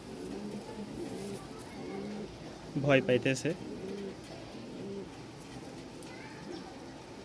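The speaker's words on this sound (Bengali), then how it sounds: "একটু নরের ডাকটা দেখানোর চেষ্টা করি" A male Giribaz pigeon coos close by, a short burst of several throaty pulsed coos about halfway through, over quiet background and a low voice nearby.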